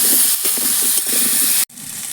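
Potato pieces fry in hot oil with salt and turmeric, giving a loud, steady hiss and sizzle that cuts out briefly near the end, then resumes.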